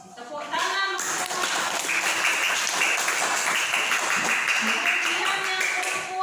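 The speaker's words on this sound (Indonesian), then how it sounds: "tepuk tangan." Children in a classroom applaud in steady, dense clapping that continues for several seconds with little break.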